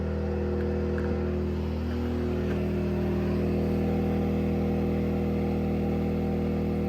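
An inexpensive inverter generator runs under a 1500-watt tea kettle load, giving a steady, constant engine drone with a strong low hum and no change in pitch throughout.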